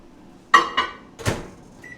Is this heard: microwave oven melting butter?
yes